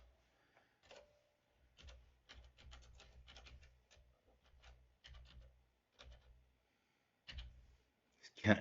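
Computer keyboard typing while editing in DaVinci Resolve 18: quiet, irregular bursts of clicking keys with short pauses between, close to the microphone.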